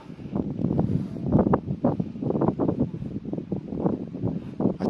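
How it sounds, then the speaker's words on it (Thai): Strong wind gusts buffet the microphone at the hilltop Phu Kao temple, Wat Phutthanimit, in Sahatsakhan, Kalasin, built of large laterite stone, making loud, uneven low rumbles that rise and fall throughout. "มันเสียงลมแรงมากนะครับ"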